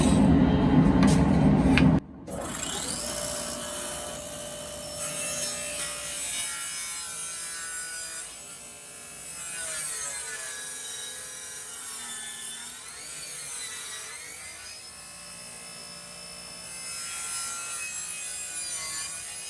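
Hand sawing of wood for a shelf bevel cut, a steady rasping stroke running continuously and fairly close after a brief louder burst at the start, with no talk.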